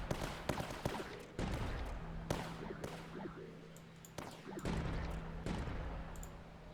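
Towers firing in the strategy game Tower Dominion during wave 25: a rapid series of sharp cracks and thuds with steady low humming between them, busy and fairly loud throughout, with no talk.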